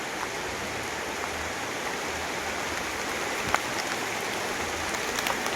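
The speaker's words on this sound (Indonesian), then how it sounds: "sayang sekali ini malah hujan" Rain falls steadily on a traditional Javanese limasan house in a remote village, a constant even hiss with scattered drips and a few brief taps.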